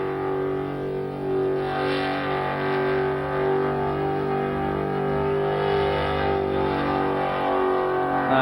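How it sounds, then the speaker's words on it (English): A supercharged Ford engine holds a loud, sustained high rev during a smoky burnout on 10-inch wide radial tyres at a Summernats car show, droning steadily and close with slight surges. "But Gary Myers really laying into this engine here."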